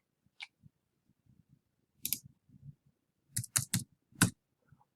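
Sparse key presses and clicks on a computer keyboard during data entry, scattered single taps and short bursts of quick typing in a quiet room.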